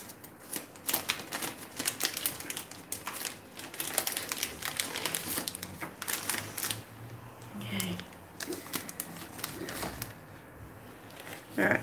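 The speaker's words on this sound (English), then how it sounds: "So I've got the photo paper ready." Photo paper is handled close by for a cup turner setup: repeated sharp crinkles, flexing and shuffling rustles come in irregular bursts with brief pauses, and a voice is faintly present.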